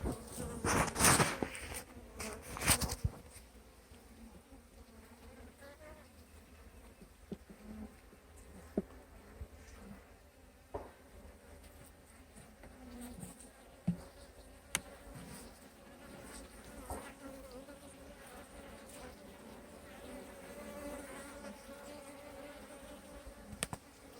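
Honey bees buzz steadily around an opened hive during an inspection of frames heavy with capped honey and pollen, a continuous insect drone with a louder burst of activity at the start.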